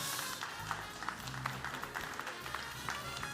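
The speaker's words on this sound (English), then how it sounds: "That clapping was like, oh, we just got to a golf game" Audience clapping fills the room at a Parent Day event, a dense, steady patter of many hands applauding together at moderate loudness.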